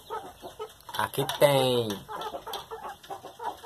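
Young hens cluck close by in short bursts, with one louder drawn-out call in the middle, while someone speaks Portuguese over them.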